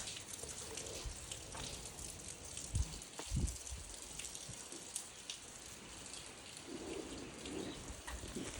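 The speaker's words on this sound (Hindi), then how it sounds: "यहाँ पे हो रही है अभी बारिश" Steady rain falls in Ooty, a soft, continuous hiss of drops with a few louder dull thumps near the middle, heard alone without voices.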